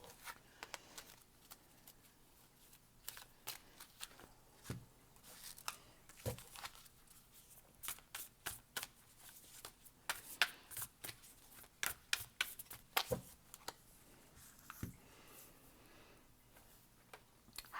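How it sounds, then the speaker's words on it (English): Stiff tarot cards shuffle by hand in quiet bursts of riffling snaps and soft clicks that come unevenly, with no one talking. "These aren't the easiest to shuffle."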